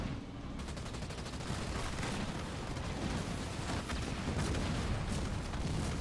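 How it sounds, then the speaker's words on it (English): Grenades and gunfire in the video game Halo Wars 2, a dense, continuous barrage of overlapping blasts and rapid shots at steady loudness with no pauses. "Oh, look at all those grenades coming through."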